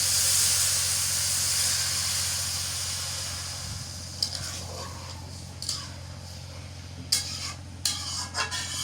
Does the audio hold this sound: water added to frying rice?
yes